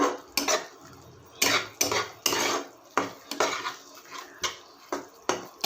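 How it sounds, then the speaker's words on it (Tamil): A metal spoon scrapes and knocks against a pan while cow's milk is stirred on low heat to make palkova, giving irregular close clinks and scrapes with quiet gaps between strokes. "நல்லா சிம்மிலே வச்சு கிளறி விடுங்க"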